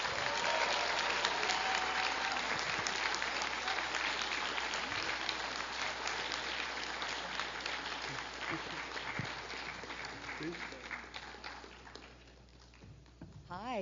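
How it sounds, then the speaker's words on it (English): A large studio audience applauds loudly and steadily as a talk-show guest is welcomed, with scattered cheers and whoops; the clapping holds strong for most of the stretch before thinning out near the end. "Please, put your hands together."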